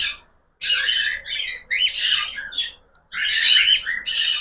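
Cockatiel chicks squawk in loud, harsh bursts close by, three clustered rounds of shrill begging calls broken by short pauses.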